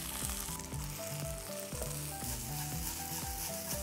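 Duck pieces sizzle steadily in hot oil for a Kerala-style pepper fry, with stirring scrapes in the pan and no talk.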